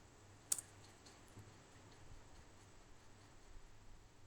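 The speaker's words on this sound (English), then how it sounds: "You click on OK." A single sharp computer mouse click near the start, then quiet room tone while setting up a Windows and Linux virtual machine in Azure.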